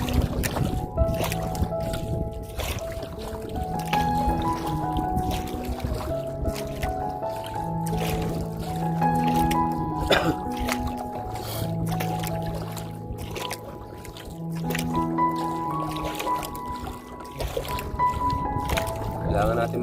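Small wooden fishing boat moving across open sea in the Philippines, with soft water sloshing and paddle strokes beneath steady, droning harmonic tones and continuous talk throughout.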